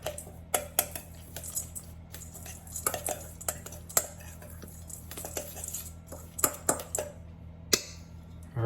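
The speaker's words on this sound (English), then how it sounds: "So break that up a little bit in the bowl." A spoon breaks up and stirs low-carb coffee cake ingredients in a bowl, giving sharp, irregular clinks and scrapes against the bowl over a low background hum.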